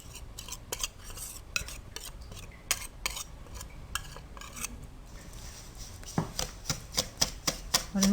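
A spoon stirs a thick egg halwa mixture with cream and milk powder in a metal pan, scraping and clinking in steady strokes, with sharper, faster knocks toward the end and no voices.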